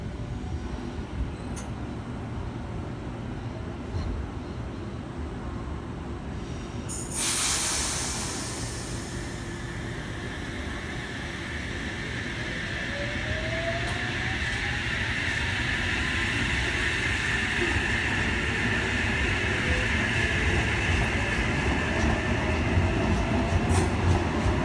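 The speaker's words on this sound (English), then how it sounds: "On platform 2 we have H36 leading a train." A Sydney Trains H set led by H36 with H31 trailing runs steadily through Redfern Station on platform 2, a continuous loud rumble of wheels and motors with a brief rise in hiss partway through and no talk.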